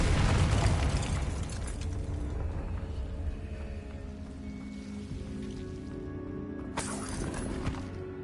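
A Confringo fire spell in Hogwarts Legacy bursts with a heavy explosive boom, then decays into a crackling, ringing tail. A second, sharper burst flares near the end, with no voices.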